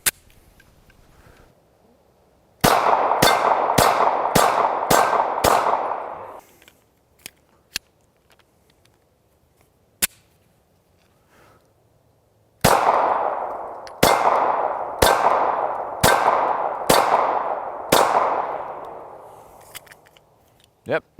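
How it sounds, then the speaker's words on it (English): A Kahr CM9 9mm pistol firing hollow points in two sharp bursts of about six shots each, loud cracking reports with ringing decay in between, separated by a quiet pause with a few faint clicks. "now let's shoot about a dozen hollow points through this CM9"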